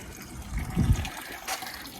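Water pours from a watering can onto broad beans in a vegetable garden, a short, soft splash that swells briefly and then fades, with no talking.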